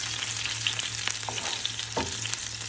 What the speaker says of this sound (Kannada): ಸ್ವಲ್ಪ ಫ್ರೈ ಮಾಡ್ಕೊತಾ ಇದ್ದೀನಿ.